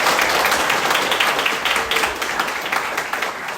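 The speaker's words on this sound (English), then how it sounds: "Let's give them a round of applause." At a hospital opening press conference, an audience claps in a brief, fairly close round of applause, dense and steady before easing slightly.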